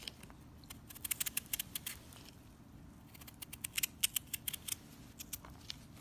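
Rapid crisp snipping and slicing clicks from a knife cutting a chayote squash lengthwise, a quick close rhythmic patter in two bursts over quiet room noise.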